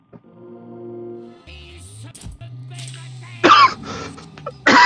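A person clears their throat and coughs, a couple of harsh bursts after some low vocal sounds and a brief clatter, while playing BioShock Remastered.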